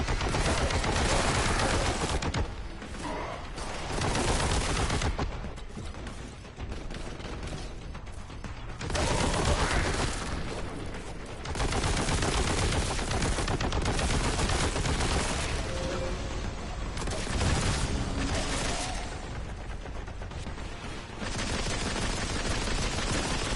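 Dense bursts of rapid gunfire from vengeance bullets in Warhammer 40K Boltgun, loud and sustained, broken by a few short pauses and backed by mechanical clanking.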